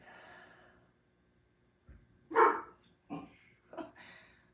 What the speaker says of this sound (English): Or in Beauregard's case, bark